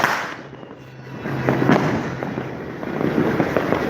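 New Year fireworks and firecrackers going off outside, a dense, continuous crackle of pops and bursts at varying distances, some sharp nearby bangs standing out from the rumbling wash.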